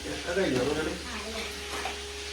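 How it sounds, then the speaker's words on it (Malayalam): Chicken frying in a pan sizzles steadily at moderate volume, with a voice talking over it near the start. "റുബിത്താത്ത അവിടെ ചിക്കൻ ഫ്രൈ ആക്കുന്നുണ്ട്."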